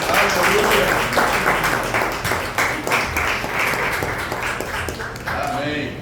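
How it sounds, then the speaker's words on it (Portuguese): A church congregation applauds in praise of Jesus with dense, steady clapping over about six seconds, with worship voices mixed in. "Pode aplaudir a Jesus."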